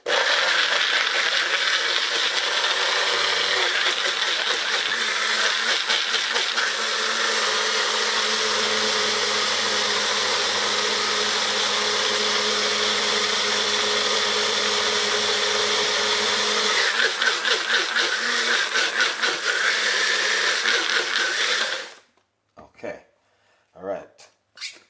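A kitchen blender runs loudly and continuously for about twenty seconds, its motor whirring steadily with slight rattling, then cuts off abruptly, leaving a few brief knocks and sounds afterward.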